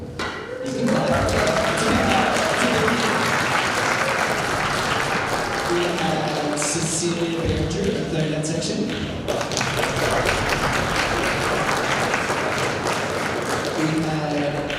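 Audience applause for honor band students from a middle school STEM band concert, a steady wash of clapping running throughout beneath a man announcing names over a microphone.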